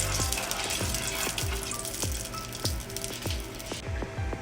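Ghee sizzles steadily in a hot pan on a low gas flame, a soft frying hiss punctuated by regular small popping ticks, with no one speaking.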